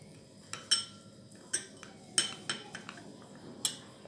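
A spoon stirs a paste of gram flour (besan) and milk in a bowl, making quiet, irregular metallic clinks and scrapes against the bowl's side, about eight soft taps spread over a few seconds, with no talking.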